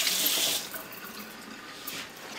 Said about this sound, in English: I'm going to rinse off my spoon